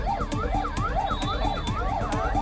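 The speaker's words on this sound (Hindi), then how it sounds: "सिर्फ चीख पुकार और सायरन की आवाजें सुनाई दे रही है।" Several emergency vehicle sirens wail at a fire scene at a furniture market in Oshiwara, Andheri West, their overlapping rising and falling tones repeating loudly and continuously without speech.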